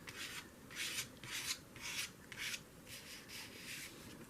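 Repeated rasping scrapes of a card dragging paint across paper for junk journal pages, about eight strokes in a steady rhythm, close and quiet.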